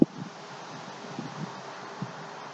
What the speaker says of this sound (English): Windy there.